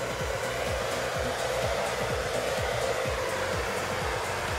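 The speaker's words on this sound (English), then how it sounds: "Now with my blow dryer, I just want to set it on low" A hair dryer runs continuously on a low setting, a steady airy whoosh with a soft underlying motor hum and no talking.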